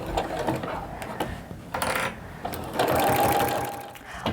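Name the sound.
sewing machine stitching oven mitt corners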